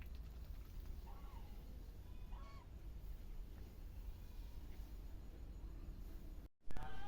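Two male domestic ducks give a couple of short nasal honking calls nearby, fairly faint against a steady background rumble, with no talk.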